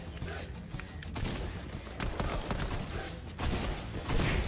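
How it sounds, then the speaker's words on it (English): Fortnite grenade fight: a dense run of thumping blasts and gunshots with no pause, loud and close, the bursts overlapping through the whole stretch. "We're having a fucking nade war over here"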